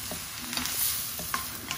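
Carrots, onions, leeks and courgettes stir-fried in a wok for a vegetable side dish, a steady sizzle with scattered scraping and tossing clicks from the utensil.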